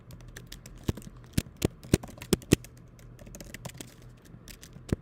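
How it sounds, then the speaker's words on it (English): Fingers type on a mechanical computer keyboard close by, irregular crisp clacks with a few louder keystrokes in a quick flurry, no talking over them. "You obviously have a nice mechanical keyboard too."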